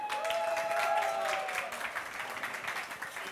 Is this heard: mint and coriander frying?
no